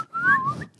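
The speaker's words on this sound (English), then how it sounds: "I'm trying to whistle through my teeth." A single short whistle made through the teeth, a thin wavering tone that slides up then dips, close and fairly loud, lasting under a second.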